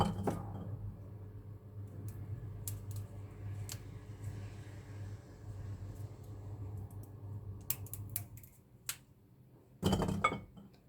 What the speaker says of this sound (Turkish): Uzunlamasına ve yanlamasına dikey ve yatay çizikler atıyorum.